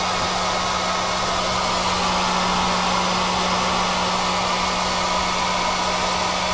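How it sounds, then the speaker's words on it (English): A blow dryer runs continuously at close range while heating a damaged videotape, giving a loud, steady rushing whoosh with a low motor hum underneath and no pauses. "I can hit it with the air, with the blow dryer, and try to heat it up a little bit."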